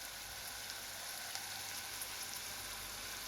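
Soft onions frying in a pan for mater paneer, with a faint, steady, even sizzle and no talking.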